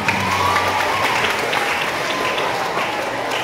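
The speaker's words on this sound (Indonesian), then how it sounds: "Tepuk tangan untuk kita semua." An audience at a live school extracurricular session breaks into sustained applause, a dense wash of many hands clapping evenly throughout, fairly loud and close, with a few faint voices mixed in.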